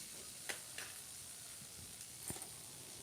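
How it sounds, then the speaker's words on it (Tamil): Coriander chutney ingredients with coconut being stirred in a frying pan, a steady low sizzle with a few soft scraping strokes of the spoon, close and fairly quiet, no voices. "சேர்த்துட்டு நல்லா இந்த மாதிரி கிளறிக்கோங்க எல்லாமே நல்லா வெந்து வரணும்"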